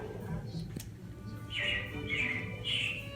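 Mechanical robins chirp in Disney's Carousel of Progress show at Magic Kingdom, three short bright chirping bursts following one another over a low background hum.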